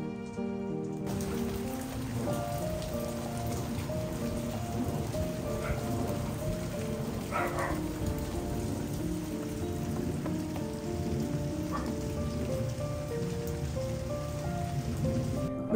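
Steady rain pattering on a surface, a continuous hiss with occasional louder drips, constant throughout and with no talking.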